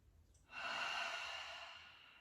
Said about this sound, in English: Breathing into the space between the shoulder blades.